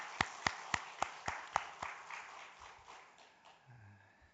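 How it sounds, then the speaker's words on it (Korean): Sparse congregation clapping in a church during a summer Bible school dawn service, a few sharp rhythmic claps that soon thin and fade into scattered quiet claps, with a faint voice near the end. "우리 격려하는 마음으로 우리 초등부 박수 한번 하겠습니다."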